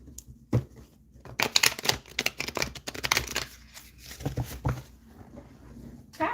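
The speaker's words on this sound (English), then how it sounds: "I just kind of wanted to shuffle the cards." Tarot cards are shuffled close up, bursts of riffling and flapping card sounds with short pauses between, crisp and near, with no talk over them.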